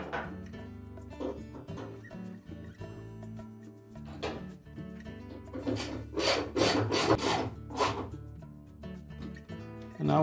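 Washplate bolt being threaded back into a Whirlpool washer, close rasping and ratcheting turns in quick repeated bursts with light metallic clicks, heard alone without talk.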